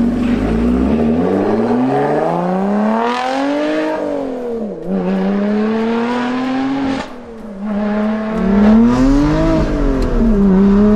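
Supercharged Lotus Exige accelerating hard on the road, engine pitch climbing through the gears with sharp drops at each shift, loud and close with a whining supercharger edge.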